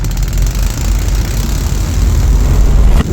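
A 3D printed 125cc four-stroke engine runs at high speed, producing a loud, steady buzzing roar that holds for about three seconds with a slight rise near the end.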